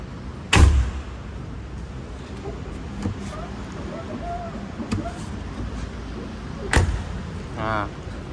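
A luggage compartment door on a Hino GB 300 Long truck slams shut with a sharp thud, followed by a few lighter clicks and knocks and a second solid slam near the end, all against quiet outdoor background.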